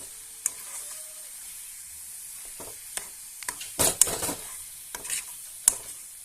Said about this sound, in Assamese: এনেদৰে আকৌ 2-3 মিনিটমান লৰাই ভাজি দিব